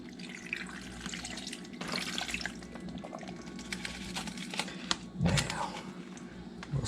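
Vinegar marinade gets poured over a pile of chicken legs for smoking, a running, splashing liquid sound with soft clatter and a louder slosh near the end.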